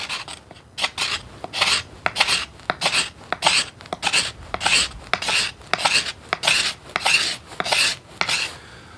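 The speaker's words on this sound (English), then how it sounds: "I'm just going to use my knife and I'm going to scrape the belly side." A knife blade scrapes along the belly side of a bamboo bow limb in a steady rhythm of about sixteen rasping strokes, close and loud with short pauses between, and no talking.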